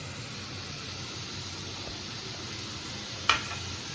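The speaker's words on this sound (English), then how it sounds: "I'm going to go ahead and add my garlic" Garlic sizzles steadily in a hot frying pan, a continuous even hiss with a brief sharp clink near the end.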